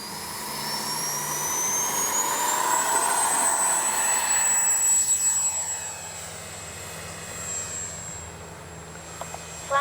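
Freewing F-22 radio-controlled model jet taking off, a steady rising electric ducted-fan whine that climbs in pitch and holds, with a broad rushing roar underneath heard from nearby outdoors.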